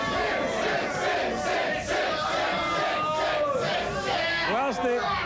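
A television talk-show studio audience roars, shouting and cheering in a dense, continuous crowd din. Individual voices whoop and rise above the loud, sustained noise.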